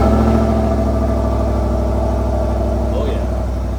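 The engine of a 2024 Chevrolet Silverado 1500 RST 4x4 pickup runs close and loud at a steady idle, a constant low rumble with a voice briefly over it.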